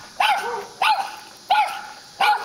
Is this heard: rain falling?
no